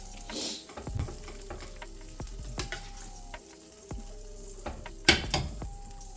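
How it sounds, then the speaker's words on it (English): Turkey meat being stirred through red tomato sauce in a pot, with a series of scraping, squelching strokes and occasional sharp utensil knocks against the pot, close and fairly quiet, with no talking. "I'm just trying to mix it all in here and make sure that everything is covered with some red sauce"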